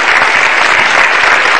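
Audience clapping for Metro TV at a stand-up comedy show, a dense, loud burst of applause filling the whole short stretch evenly.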